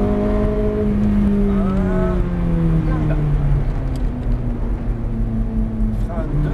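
A Ferrari F430 accelerates hard around the Grand Sambuc circuit, its engine note rising through the gears in loud, sustained pulls, with an instructor talking over it.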